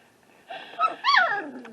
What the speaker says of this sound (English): And they know how to bark.